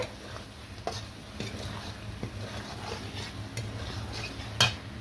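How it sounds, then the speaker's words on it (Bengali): Shrimp stirred into a spice masala in a pan, soft scraping and occasional clinks of a utensil against metal over a faint low sizzle, quiet and close, with one sharper knock near the end. "এবার চিংড়ি মাছগুলো দেব। অল্প নাড়াচাড়া করে"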